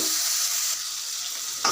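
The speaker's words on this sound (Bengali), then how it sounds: "কিছুক্ষণ এই পেঁয়াজের সাথে শুটকিটাকে ভাজতে থাকবো।" Dried salted hilsa frying with onions and whole green chillies in a pan gives a bright, close, steady sizzle that stops abruptly near the end.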